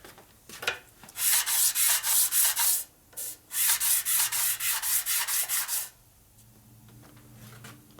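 Rhythmic back-and-forth rubbing strokes on a part from a 1965 Harley-Davidson panhead 74ci FLH motor being rebuilt, a run of about a dozen even, close swipes with a short pause midway, then quiet.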